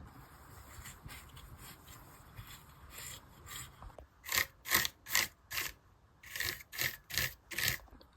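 A keyboard case is scrubbed clean of dirt and grime. Soft rubbing comes first, then a series of rhythmic, close brushing strokes, about a dozen scrubbing passes, with no speech.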